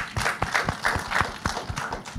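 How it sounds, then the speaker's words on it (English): Scattered clapping from a small panel audience, with distinct individual claps in an uneven rhythm, moderately loud and fairly close. "A round of applause for Antonio."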